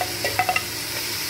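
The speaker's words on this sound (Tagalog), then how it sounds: "para pati gulay, mapiprito siya para masarap" Vegetables sizzle steadily in a hot pan while being cooked for pancit, with a few brief scraping stirs near the start, close and alone.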